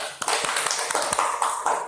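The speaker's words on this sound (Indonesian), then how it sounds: "Oke, tepuk tangan dulu." A quick burst of hand clapping, sharp claps in an uneven rhythm for under two seconds, close and fairly loud.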